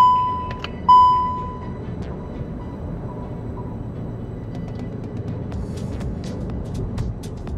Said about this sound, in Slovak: Auto rozbehnete na predpísanú rýchlosť a potom zaradíte neutrál a dokonca vypnete motor, aby to bolo čisto o hluku pneumatik